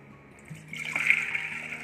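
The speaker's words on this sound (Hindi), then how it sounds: "चने में हमें इतना पानी डालना है कि जो हमारा चना है वो अच्छे से डूब जाए।" Water poured from a vessel into a pressure cooker over soaked chickpeas, a close, rising gurgling splash that builds in the second half, fairly quiet overall.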